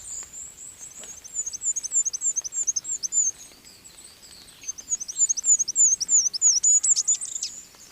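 A goldcrest sings in a forest: thin, very high-pitched trilling phrases repeated in two bursts, close and clear over a quiet background.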